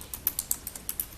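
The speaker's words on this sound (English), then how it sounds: "I'm typing away." Typing on a computer keyboard during a town public buildings commission meeting, about ten quick, evenly spaced keystrokes close to the microphone, with no talking.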